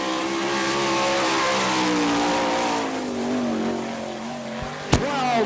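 A sprint car laps a dirt track at speed, its engine roaring loud and close in a long sustained whine that dips and swells through the turns, ending in a sharp burst of noise.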